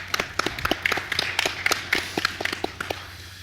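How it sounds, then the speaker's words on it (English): Applause for planning committee members at a clan conference, a small scattered audience clapping in uneven bursts, fairly close, with no talking. "Wanted to please give them a round of applause of acknowledgement"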